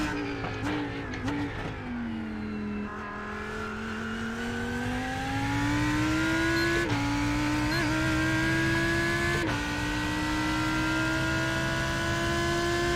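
A Lamborghini GT3 race car engine in the iRacing sim at the 24 Hours of Daytona, a loud, steady high-pitched drone rising slowly as it accelerates, with two brief dips at gear changes, heard alone.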